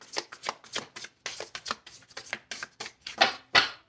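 Tarot cards being shuffled in repeated quick riffling bursts, close and fairly loud, with crisp papery flutters about every quarter second and two stronger shuffles near the end, no voices.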